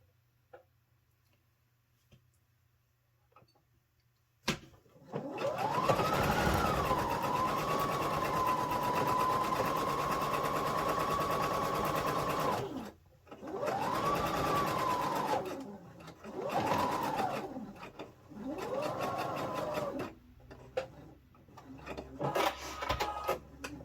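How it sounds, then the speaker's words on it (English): A sewing machine stitches a zippered tote computer bag with a long basting stitch: one steady run of about eight seconds, then several shorter bursts separated by brief pauses, loud and close with a whirring, ticking drive. "this is just to sew it together. And it's going to get cut off."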